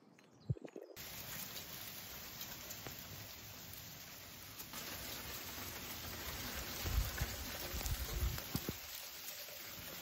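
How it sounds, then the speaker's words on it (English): Rain and hailstones fall steadily outdoors as a broad, continuous patter with scattered sharper hits that grow denser toward the end, heard alone without voices. "it's currently bouncing down with hailstones outside and it's been raining"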